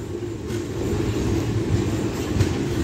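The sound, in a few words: Sabari Express train arriving at Nalgonda station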